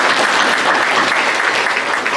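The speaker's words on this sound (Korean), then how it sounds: "박수하겠습니다." A church congregation breaks into loud, dense applause to welcome a first-time visitor, steady and close throughout.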